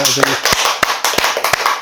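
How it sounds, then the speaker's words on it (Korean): A church congregation claps in thanks after a prayer, a brief, irregular burst of distinct hand claps from a small group, fairly close and loud against a quiet sanctuary. "우리 감사의 박수 드립시다."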